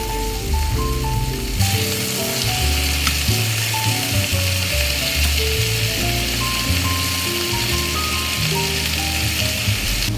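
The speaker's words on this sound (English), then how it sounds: "Sear it so that the moisture inside gets locked in." Chicken adobo pieces searing in a pan give a steady, loud hiss of frying and sizzling, close up, under a soft background music bed without talk.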